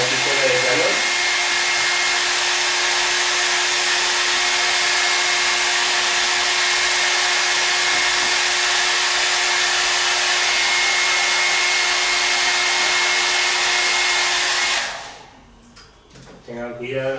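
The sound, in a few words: hair dryer drying off solvent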